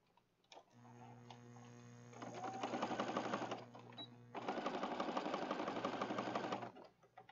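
Sewing machine stitching through a bluebonnet-themed junk journal, a quiet close whirring in two runs with ticking and a steady hum underneath.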